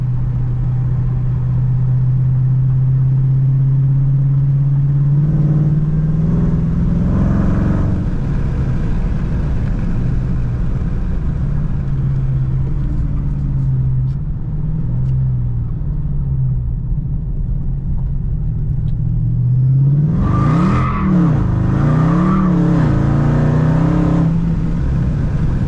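Dodge Hellcat held in a burnout, a steady loud engine drone with tires spinning, building into a rising rev surge near the end, with no talking.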